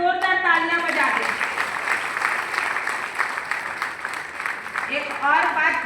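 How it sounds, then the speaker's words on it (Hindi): Sustained audience applause fills a hall at an RCM stage award ceremony, steady dense clapping throughout with cheering voices, loudest at the start and end. "एक बार जोरदार तालियां बजा दें"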